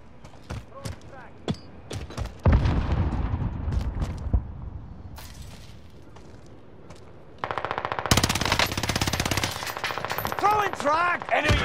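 Rapid gunfire from AS44 and MP40 weapons in a Call of Duty match, bursts of automatic shots near and loud, with a voice speaking between volleys and a dense stretch of sustained firing and game effects toward the end.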